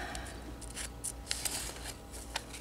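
Scissors snip through material in a school dehydration synthesis lab, a few quick, crisp close cuts with faint rustling in a quiet room.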